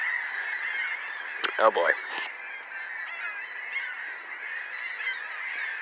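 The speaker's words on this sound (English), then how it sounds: "Aren't these seagulls, aren't they supposed to be near the sea" Seagulls near a junkyard give a brief burst of honking calls over a steady background hum, and a voice briefly speaks.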